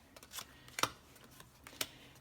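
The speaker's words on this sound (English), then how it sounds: "that's why I'm shuffling them again before I put them out" Tarot cards shuffled by hand in a few quick, soft riffling bursts, faint and close, with quiet gaps between them and no talking.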